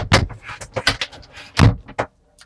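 An RV shower door in a 2026 Wingamm Oasi 690 G motorhome bath swings shut and is caught by a magnet, giving a series of close, sharp knocks and rattles before it settles quiet.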